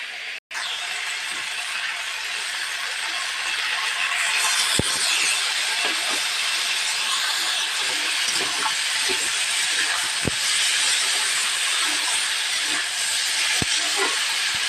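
Water poured into spice paste with tomato in a hot pan, giving a loud, steady, close sizzle and hiss that runs unbroken throughout, with a few faint clicks of cookware and no talking.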